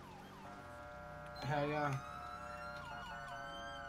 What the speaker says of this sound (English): I've had this same siren.